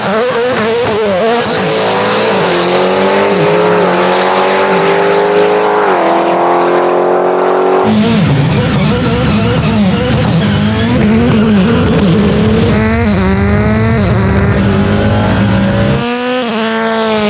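A 1,080hp Jeep Trackhawk races hard on a closed course, its engine roaring loud and close as it revs and shifts. Tires squeal through the turns, and the sound is steady and saturated throughout with no talking.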